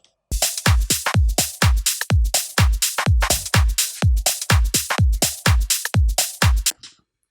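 A groove from an electronic dance track, with hard repeated kick-and-percussion hits and loose, off-grid shaker accents giving it a jumping, uneven feel, played loud and steady for about six seconds before stopping.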